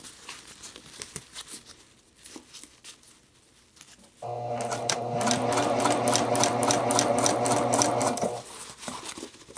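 A sewing machine stitches the sleeve cap of a jacket, running as a steady, close mechanical burst for about four seconds between quieter stretches of handling noise.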